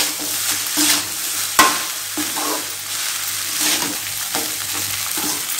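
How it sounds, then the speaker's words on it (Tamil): Cooked rice is stirred in a hot pan on a full flame, with scraping spoon strokes over a steady sizzle and occasional sharper clinks, close and alone. "சாப்பாடை கொட்டி கிளறிடுவோம்"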